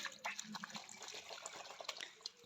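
Raw turmeric roots brought from the market being rinsed by hand in water, with soft sloshing, splashing and dripping close by in a quiet kitchen setting, no talking.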